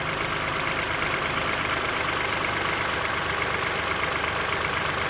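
A cold Toyota Sienna with the 3.5L V6 2GR-FE engine idles steadily, a constant close-up mechanical drone with a faint ticking texture and no voices.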